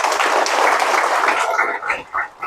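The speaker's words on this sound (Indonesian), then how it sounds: "Kita beri tepuk tangan" Applause from a crowd of farmers at a village gathering in Kokbaun, Timor, a dense steady patter that thins toward the end into a few scattered bursts of clapping.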